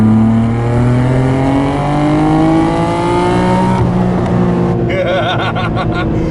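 A 1992 Nissan R32 Skyline GTR accelerates hard on a road drive, heard from inside as a loud, steadily rising engine note through the gears, then a shift and another climb.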